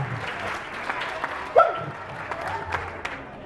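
Short applause from an outdoor crowd at a country fair day, with clapping mixed with crowd noise and a brief louder burst midway.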